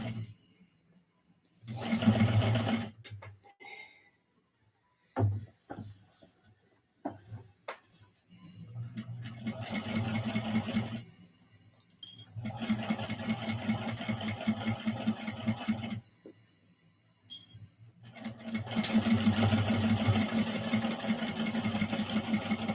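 A sewing machine stitches base stitches on a fabric sand dollar plush in bursts of steady whirring separated by pauses, with brief handling sounds and occasional low talk between runs.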